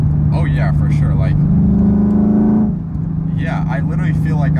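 A modified Lexus IS F with a gutted exhaust revs, heard from inside the cabin as a steady droning engine tone that climbs in pitch, then eases off, with people talking over it before and after.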